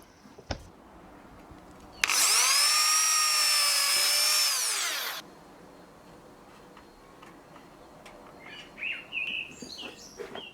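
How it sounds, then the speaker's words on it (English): A power drill bores a test hole in a scrap piece of wood, sounding one steady high whine for about three seconds before stopping, with faint birdsong outdoors before and after. "Drill a test hole in a scrap piece of wood to check that the nail fits tightly."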